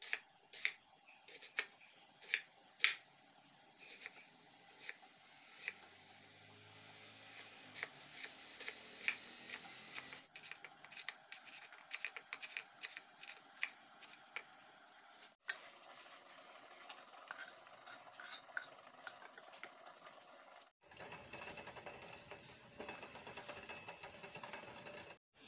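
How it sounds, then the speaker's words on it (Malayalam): A knife chops onion, tomato and green chili for an Indian egg curry. Rapid, close, crisp knocks on a board come in uneven bursts, then give way to a denser scraping and chopping sound, with no talking. "സവോള, തക്കാളി, പച്ചമുളക് കട്ട് ചെയ്തെടുത്തിട്ടുണ്ട്."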